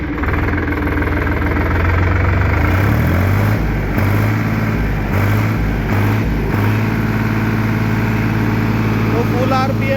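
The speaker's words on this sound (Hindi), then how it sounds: "बड़ी एक अच्छी आवाज़ है ट्रैक्टर की" A Solis 5015 diesel tractor engine runs loud and close, a steady rumbling idle with knocking pulses and a rise in revs early on, continuing evenly throughout.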